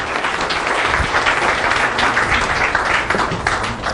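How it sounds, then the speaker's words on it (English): An audience applauds a guest from the Drone Radio Show as he is called up at a live event, with dense, steady clapping filling the room for the full stretch. "Let's give Randy a round of applause."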